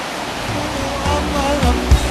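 A mountain stream beside a roadside picnic spot near a hot spring, its water rushing and murmuring in a steady broadband wash, with a few low thumps near the end.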